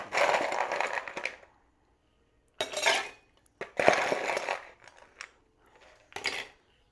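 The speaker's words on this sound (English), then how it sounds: "we are going to add ice" Ice dropped into a cocktail shaker for a sparkling Mai Tai, several bursts of rattling, clinking cubes separated by silent pauses, close and fairly loud with no talk.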